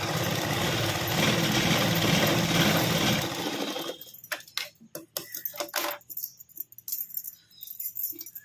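A sewing machine runs steadily for about three seconds, double-stitching a seam on a princess-cut blouse, then stops into a string of sharp clicks and rattles as the fabric is handled.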